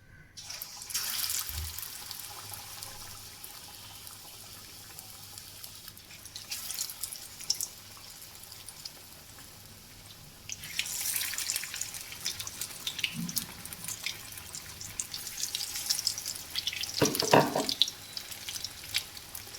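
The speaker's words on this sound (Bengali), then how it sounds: "আমরা মাছটাকে ব্যাটার দিয়ে মাখিয়ে তেলে ছেড়ে দিচ্ছি" Battered topshe fish frying in hot oil gives a continuous watery hiss and crackle, fairly close, quieter at first and then swelling into a denser, louder sizzle over the second half, with no voices.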